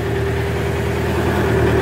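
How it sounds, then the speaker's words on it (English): A tractor engine runs steadily at a loud, even idle with a low rumbling hum, close by, no talking. "I'll give it a few more revs."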